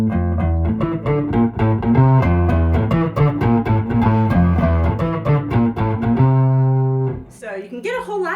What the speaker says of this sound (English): Especially when you add distortion in, which sounds a little like this.